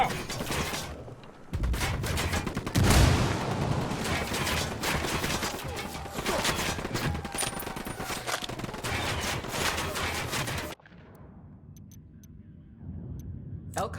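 Rapid gunfire rattles through a Ghost Recon Wildlands firefight, with dense bursts of automatic shots and cracking reports running for several seconds, mixed with voices and game sounds, before cutting to a quieter stretch.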